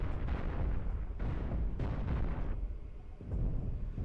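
A ship's reactor blows up during a space battle in the Cosmoteer video game. A series of muffled booming blasts and crackling bursts rolls on in overlapping waves, fairly quiet overall, with one short lull near the end.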